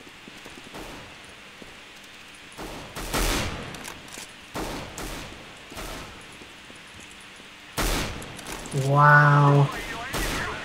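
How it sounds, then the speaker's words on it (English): Short bursts of CS:GO gunfire crack out in scattered volleys, loud and close, with a man's brief exclamation over the shots. "I shot him in the face and he didn't die."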